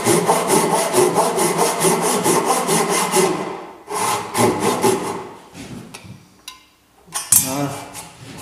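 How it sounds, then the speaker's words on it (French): A Japanese hand saw rasps through wood in rapid, even back-and-forth strokes, close and loud, pausing briefly before a few final strokes. "Je suis pas d'habitude de la scie japonaise, j'ai que celle-là pour l'instant"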